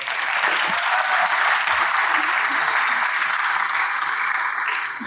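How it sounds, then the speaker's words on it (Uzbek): A room full of people applauding for a full five seconds, dense steady clapping heard up close and loud, easing slightly at the end. "Shunga bitta olqishlar."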